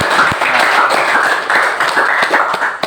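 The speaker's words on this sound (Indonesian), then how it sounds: "Kita beri aplaus sekali lagi nih." Students in a classroom give another round of applause after a discussion, loud and close, with irregular sharp individual claps standing out within a continuous patter of many hands.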